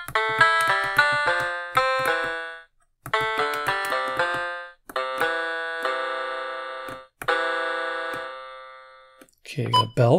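A Vogurtime VT-09 mini piano, built from a DIY kit, plays its bell voice: groups of quick, clear ringing notes with bright overtones and short decays, separated by brief pauses, ending with a short burst of noise.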